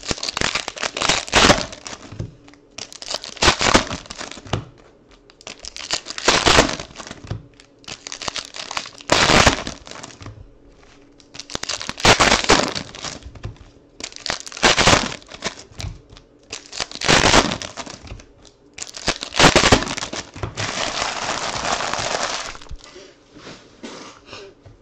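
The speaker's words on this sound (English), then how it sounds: "I'm just ripping boxes for guys right now" Packs from a 2014 Prizm Draft Picks baseball hobby box are torn open one after another: loud, close crinkling foil bursts in about nine separate rips, with short pauses between them.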